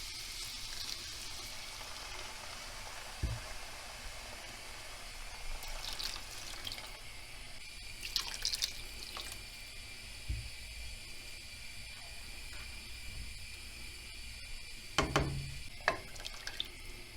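About 3.5 cups of water are poured into a pot for green lentil rice pilaf, a soft continuous splashing and trickle in a quiet kitchen, broken by a few brief clinks and knocks.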